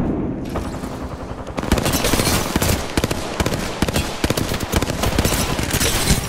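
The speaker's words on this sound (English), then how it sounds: "Three enemies are shooting at me." Enemy gunfire in a shooter game: rapid, loud automatic bursts crackle almost continuously after a short quieter opening, close and dominant with no talk.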